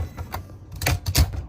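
A typewriter at a typewriter repair shop in Arlington, Massachusetts clacks out a quick, irregular run of sharp keystrikes, close and fairly loud, with no voices.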